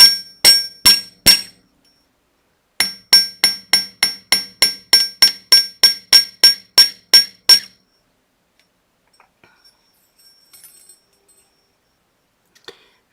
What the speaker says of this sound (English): Hitting more on the curve here, and I'm going to hit less on the straightaways to give a tapering to my metal, to taper the metal.